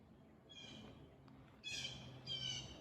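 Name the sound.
blue jays squawking while flying over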